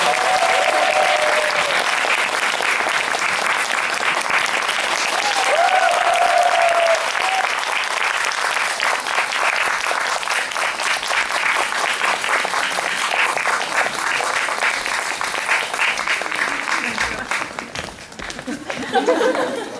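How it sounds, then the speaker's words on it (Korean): A theatre audience at a post-show talk for the musical 두결한장 claps loudly and steadily for about eighteen seconds as the actors come on stage. A few voices and light laughter rise through it before the applause fades. "저희 오늘 공연을 한 배우들을 큰 박수와 함께 무대로 불러보겠습니다"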